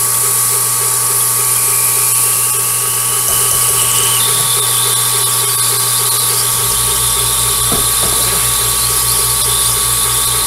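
A machine tool cuts a countersink into a shop-made slitting saw arbor, giving a steady high squeal and mechanical whine, with a brief clunk near the end as the machine's tone shifts.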